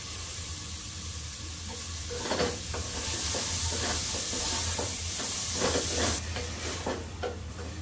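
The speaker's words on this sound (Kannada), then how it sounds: "ಒಂದು 2 ನಿಮಿಷ ಚೆನ್ನಾಗಿ ಫ್ರೈ ಆಗಲಿ." Tomato with curry masala fries in a pan for soyabean pulav, a continuous hissing sizzle with bursts of stirring and steam that swell midway and ease toward the end.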